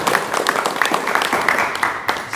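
Applause from an audience at a Pencak Silat Cempaka Putih martial-arts organisation gathering in Magetan: a steady wash of clapping that sounds dense and fairly close and carries on for the whole stretch.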